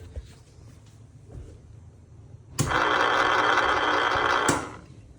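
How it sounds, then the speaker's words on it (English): A three-phase motor started through a contactor starter on a forward-reverse motor control center runs with a steady broadband whir for about two seconds after a sharp click, then stops abruptly with another click. "when I click the green button here, close the contactor, the motor is turning."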